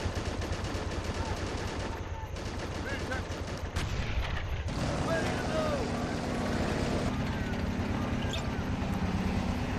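Machine gun fire rattling through a Men of War: Assault Squad battle for a 1944 Pacific airfield on Saipan, rapid repeated bursts running steadily throughout amid other battlefield noise and engine rumble, with a voice talking over it.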